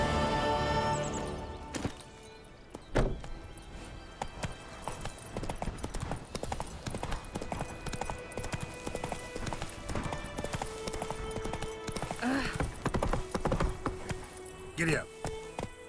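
Horse hooves galloping in The Witcher 3, a rapid, steady clip-clop of hoofbeats with jingling tack, with a neigh and voices talking over the ride.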